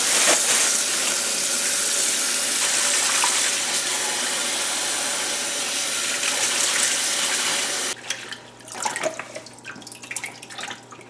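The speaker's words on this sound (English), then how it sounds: "first up I'm just gonna wash the cilantro" Cilantro rinsed under a running kitchen faucet: a steady, loud gush of water pours continuously for about eight seconds, then cuts off, leaving softer drips and handling sounds.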